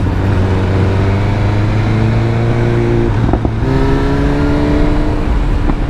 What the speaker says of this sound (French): quand tu ouvres le bruit du pot, c'est jouissif